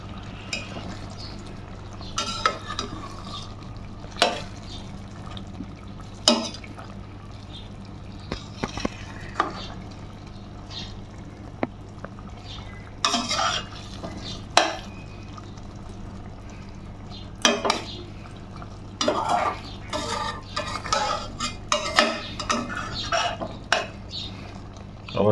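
Dhakai-style fish pieces being turned in a pan, intermittent scrapes and clinks of a utensil against cookware over a low steady hum, with long quiet gaps between the brief knocks.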